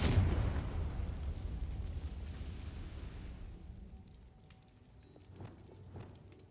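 A Confringo fire spell explodes in the video game Hogwarts Legacy, a loud booming burst at the start whose rumbling blast decays over about three seconds, followed by quieter scattered game sounds and faint clicks.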